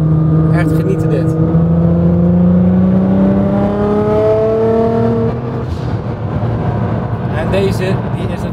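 Car engine driving along country roads in Limburg, Belgium, with a steady rising engine drone and tonal harmonics climbing as it accelerates, loud and continuous inside the cabin.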